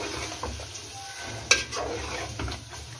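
Chicken fries in a pan with yogurt, masala, lemon juice and green chillies, a soft steady sizzle under light stirring, with a sharp clink of a utensil against the pan midway.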